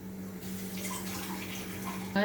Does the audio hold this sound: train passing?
no